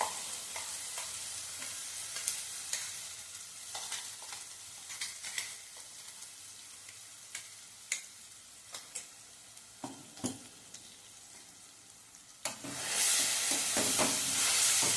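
Ground masala paste of spices and chilli sizzles while it is sautéed in a pan for a village-style pigeon pea curry. Soft continuous frying hiss is punctuated by repeated spoon scrapes and stirs, and a louder burst of sizzling comes near the end.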